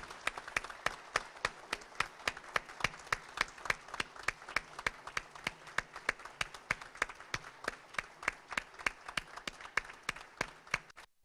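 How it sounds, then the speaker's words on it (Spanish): Audience applause for Dr. Mariano Germán Mejía at a formal official ceremony, a fairly quiet, rhythmic clapping with a steady beat that keeps an even pace for the whole stretch. "permítanme solicitarle a todos los presentes que le tributemos un aplauso al doctor Mariano Germán"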